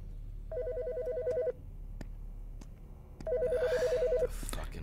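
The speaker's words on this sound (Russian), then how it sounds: "Сраный телефон." A telephone in the video game Autopsy Simulator rings in two electronic bursts separated by a short pause, fairly clear against a quiet room hum.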